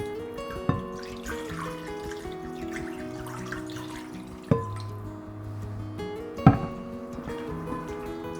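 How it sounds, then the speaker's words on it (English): Tap water runs into a bowl while flour-coated chicken wings are washed in a kitchen sink, with splashing, a few sharp knocks and steady trickling. "Add water."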